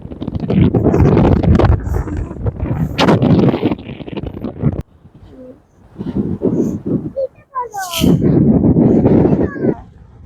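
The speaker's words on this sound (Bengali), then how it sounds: "প্রচুর হাওয়া দিচ্ছে মনে হচ্ছে উঠে চলে যাবো" Strong gusty wind off the sea at Yarada Beach, Visakhapatnam, blasting the microphone in heavy bursts, with pauses between gusts and a few faint bird calls.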